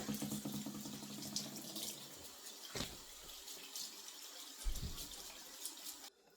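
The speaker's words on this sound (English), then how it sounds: "Let me wash my hands real quick." Water runs steadily from a kitchen sink faucet while hands are washed beneath it, a continuous splashing hiss with a few brief louder gushes and clatters, close and alone until it cuts off at the end.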